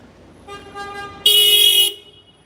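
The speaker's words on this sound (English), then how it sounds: "he honking that damn horn loud enough that made me mad at him" Car horn on a street in Madrid, a sustained honk that swells into a much louder, harsh blast for under a second before dropping back, heard at moderate distance with no talk.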